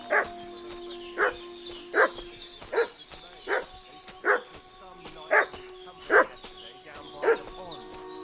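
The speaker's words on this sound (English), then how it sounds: "What's that dog making such a fuss about?" A dog in the video game Kingdom Come: Deliverance II barks in a steady series of about ten sharp woofs, evenly spaced and fairly close, with a faint background hum.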